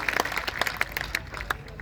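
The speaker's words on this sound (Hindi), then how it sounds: "एक बार ताली बजाइए" An audience claps at a Hindi comedy poetry gathering, a quick burst of scattered hand claps from a modest crowd, fairly faint and without voices over it.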